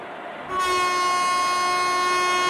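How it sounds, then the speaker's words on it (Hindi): A train horn in an Indian train crossing video game sounds as one loud, steady blast that starts about half a second in and holds to the end. "ट्रेन का हॉर्न अभी ब्लो हो चुका है"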